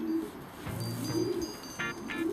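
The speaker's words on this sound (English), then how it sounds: "Two real well bred pigeons." Well-bred young racing pigeons cooing softly at close range, with low rolling coos repeated several times over faint background noise.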